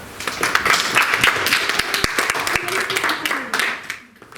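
Audience applause for a student speaker at a secondary school public speaking contest: a bright patter of many hands clapping fairly close, with distinct individual claps standing out, fading and tailing off near the end amid faint voices.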